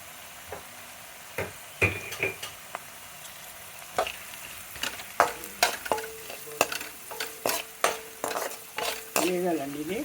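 Ingredients for sabudana khichdi frying in a pan, with scattered clicks and scrapes of stirring over a low, steady sizzle, irregular bursts growing busier toward the end.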